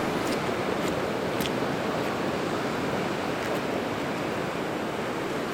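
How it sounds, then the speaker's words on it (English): Pacific Ocean surf rolls in on the Juan de Fuca coast as a constant, dense roar of breaking waves, loud and unbroken, with some wind hiss on the microphone. "I hear the ocean."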